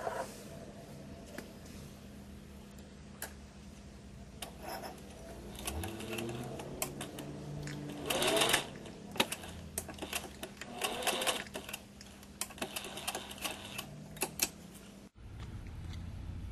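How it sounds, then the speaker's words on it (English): Sewing machine stitching elastic onto doll-sized yoga pants, running in steady bursts of mechanical whirring with short pauses between runs, close and moderately loud, ending abruptly. "just sew the elastic in place right in the center"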